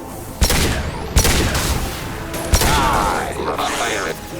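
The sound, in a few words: gunfire in the video game Mass Effect 2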